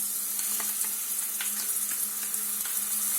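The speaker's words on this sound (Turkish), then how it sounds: "Biberlerim yumuşayıncaya kadar soğanla biberi birlikte kavurmaya devam ediyorum." Chopped onion and red peppers sauté in a pan with olive oil, a steady bright sizzle with scattered crackles and light stirring taps, close and continuous with no voices.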